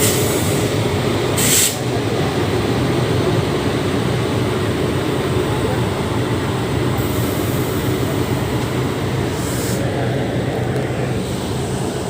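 Intercity Express train 14102 pulling out of Kanpur Central: a steady, loud rumble of rolling wagons that runs continuously, with a couple of brief high squeals from the wheels and no voices.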